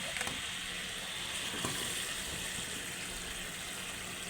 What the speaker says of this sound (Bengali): দেখুন ফুটে গেছে এবার ডিমগুলো দিয়ে দেবো